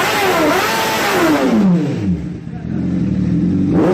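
A Honda Blade 1000cc inline-four motorcycle engine revs hard and loud up close, the pitch falling, then it drops to a brief idle before climbing again.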